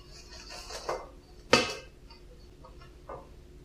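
Crumbled feta is stirred through a spinach filling for spanakopita, heard as a few scattered clinks and scrapes of a utensil against a bowl, with one sharper knock.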